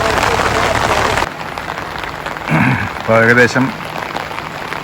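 Heavy rain pours down during a major river flood, a loud dense hiss for the first second before dropping to a softer steady patter, with someone speaking briefly over it.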